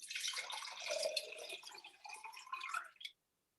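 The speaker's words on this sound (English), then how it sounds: "Pour the water in the jar so it covers your pit" Water is poured into a jar for rooting a pit, a steady splashing, trickling pour that runs for about three seconds, close and fairly loud, then stops abruptly into silence.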